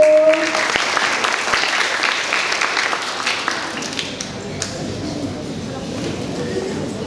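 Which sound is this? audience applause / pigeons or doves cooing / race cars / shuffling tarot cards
audience applause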